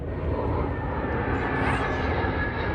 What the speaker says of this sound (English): That's airplane.